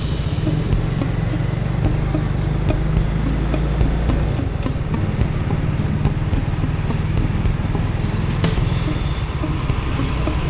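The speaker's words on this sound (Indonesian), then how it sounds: "Ada bis yang datang nih" A bus on a road passes nearby as a steady, loud engine rumble and broad road noise with no clear rise or fade, heard from inside a moving vehicle with no talking.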